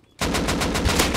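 Rapid automatic gunfire from the survival video game Rust rattles out in a steady burst of about nine close, loud shots, starting abruptly after a brief quiet moment.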